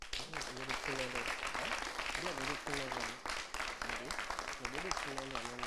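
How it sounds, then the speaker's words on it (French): Audience applause for the Punishers team at a game-show final, clapping running continuously beneath a voice that talks over it throughout. "je voudrais qu'on applaudisse les punishers"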